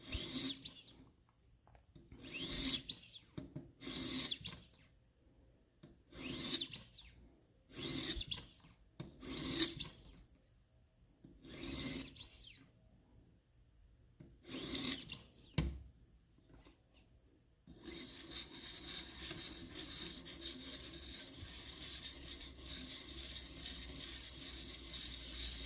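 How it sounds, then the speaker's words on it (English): A Damascus pocket knife edge is lightly sharpened by hand, giving a series of short, close rasping strokes in an uneven rhythm with brief pauses between them, followed by a steadier continuous scraping hiss toward the end. "and then you basically lightly sharpen the edge"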